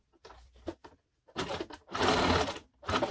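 A sewing machine stitches a hem on blackout drapery in short stop-and-start bursts of whirring, with a longer run near the end, close and moderately loud.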